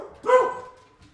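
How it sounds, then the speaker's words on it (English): A single close, sharp dog bark with a short tonal yelp that trails off quickly, followed by a faint second sound. "Dogs?"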